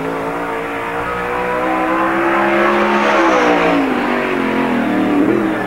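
NASCAR Busch All Star Tour 21X race car at Park Jefferson Speedway in 1997, engine roaring loud and steady on track, rising in pitch as it accelerates and passes close by.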